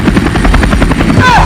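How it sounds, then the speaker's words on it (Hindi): A cartoon helicopter roars loudly overhead with a fast, continuous rotor chop that fills the whole short moment. "हम दोनों के खोपड़ी पर हेलीकॉप्टर उड़ा रहा है।"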